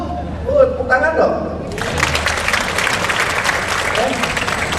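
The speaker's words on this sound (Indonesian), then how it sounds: "Tepuk tangan dong." Someone speaks briefly to a seated audience at a motivational talk, and then a loud, sustained wave of applause from the crowd fills the rest of the space.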